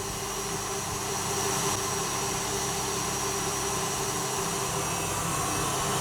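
An electric hand mixer whips three egg whites for a lemon tart, giving a steady, loud whirring motor drone that runs unbroken from start to finish with no talk.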